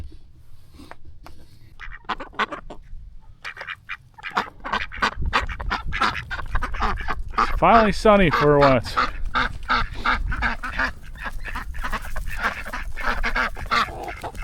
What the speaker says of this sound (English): All the ducks are anxious.